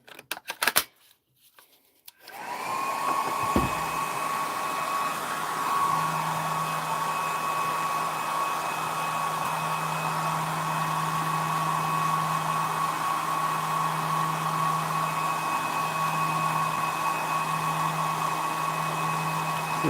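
A solder fume extractor fan starts up after a brief clatter and settles into a steady, even whoosh of airflow with a faint tonal hum, running continuously and alone.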